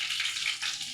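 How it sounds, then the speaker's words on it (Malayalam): Fenugreek seeds sizzling in hot oil while a fish curry is cooked, a brief close hiss with a soft crackle. "എണ്ണ ചൂടായിട്ടുണ്ട്. ഉലുവ ഇട്ട് കൊടുക്കാം."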